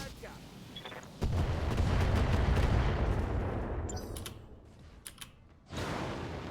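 Mech weapons firing in the BattleTech video game, a sustained burst of heavy booming and crackling fire that swells and fades, followed by sharp mechanical clanks and another blast.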